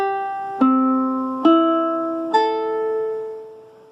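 A ukulele strummed in tune: three separate open strums, each ringing out and slowly decaying before the next, close and clear with nobody talking.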